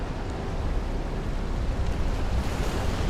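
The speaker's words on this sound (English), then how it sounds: "Huge waves were crashing onto the cliff." Huge waves crashing onto a cliff during a dark thunderstorm, heard as a continuous surging surf roar with wind, moderately loud and unbroken, with no voices.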